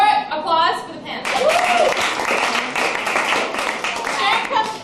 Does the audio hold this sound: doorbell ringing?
no